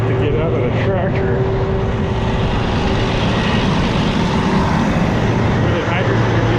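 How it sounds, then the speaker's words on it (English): A hydrogen-powered tractor harrows a field, its engine a loud, constant, close drone with broadband rumble, while someone talks over it. "Problem with harrowing is I never have to get out of the tractor."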